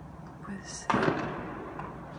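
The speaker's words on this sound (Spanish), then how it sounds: "Esos balazos están por el plato allá." A single sharp, distant gunshot during a clash between federal forces and criminals cuts through a low background hum, followed by a fainter thud about a second later.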